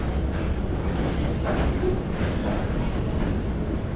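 A steady, continuous rumble of a train running on rails in Japan, broadband and fairly loud throughout, with no voices.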